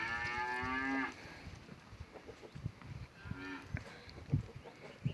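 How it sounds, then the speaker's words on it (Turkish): Saanen dairy goats bleat nearby: one long, drawn-out call opens, then a shorter bleat follows amid soft shuffling and movement noises. "Burada bunlar da süt keçilerimiz."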